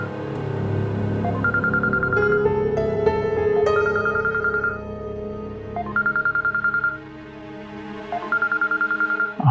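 A mobile phone rings in a domestic drama scene, its electronic tone sounding in short repeated bursts that pause and return several times, with a background music bed underneath and no talking.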